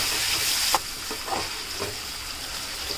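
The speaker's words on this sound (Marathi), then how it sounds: "टोमॅटो पण आपण आता कांद्यामध्ये चांगलं मिक्स करून घेऊयात" Chopped tomato being stirred into cooked onion in a sizzling pan, a steady close fry with several distinct scraping stirs, no voices.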